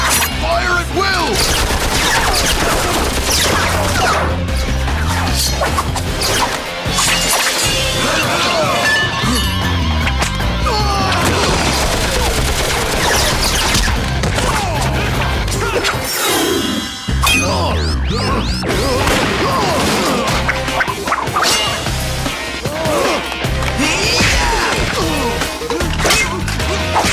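Dense cartoon battle noise: rapid bursts of gunfire, smashes and metallic clanks pile up loudly and continuously, with brief shouted voices mixed into the chaos.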